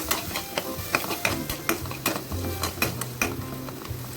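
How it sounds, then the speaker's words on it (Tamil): Ginger garlic paste frying for a spicy mutton masala gravy: a steady sizzle under frequent scraping and tapping of a spoon stirring in the pan, with sharp metallic clicks at an uneven pace. "நல்லா இதை ஃப்ரை பண்ணுங்க. இஞ்சி பூண்டு விழுது ஸ்மெல் போகட்டும்."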